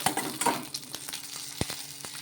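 Tamarind sautéing in a little oil in a pan, with a soft steady sizzle broken by a few sharper clicks and taps of a spoon against the pan, close and moderately quiet, no talking.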